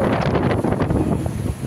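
Steady wind buffeting the microphone at a warm, breezy beach at high tide on Paros Island, Greece, a loud continuous low rumble with no speech.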